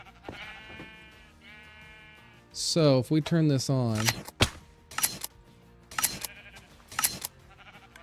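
Sheep in Minecraft bleat in a burst of overlapping calls as a block of dispensers shears them all at once, with sharp clicking from the dispensers; someone talks briefly before and between the bleats.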